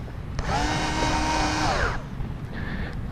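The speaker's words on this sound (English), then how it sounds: "I'm just using a power screwdriver here" A power screwdriver drives screws for a headrest speaker retrofit in a Mazda Miata, one steady whirring run of about a second and a half that winds down, then a brief second burst, close and fairly loud.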